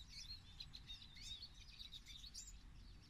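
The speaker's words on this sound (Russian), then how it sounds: "Не знаю, ли слышно, но уже поют птицы." Several birds sing and chirp outdoors on a February morning, faint and distant, in a quick scattered series of high tweets over low background rumble.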